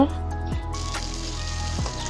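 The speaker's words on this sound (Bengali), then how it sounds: "এখন এই যে যেগুলা বাকি ছিল সেগুলো ভেজে নিচ্ছে" Pieces of boal fish frying in hot oil in a pan, a steady close sizzle throughout with faint metallic clinks, no voices heard.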